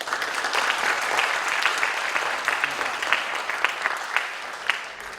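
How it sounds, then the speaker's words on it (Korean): An audience at a Chongshin University 120th anniversary ceremony claps steadily for a scholarship recipient, a warm, even wash of applause with a few louder claps standing out. "박수"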